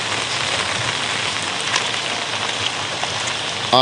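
Steady rain patters and hisses on a surface, dense and continuous throughout, with no voices.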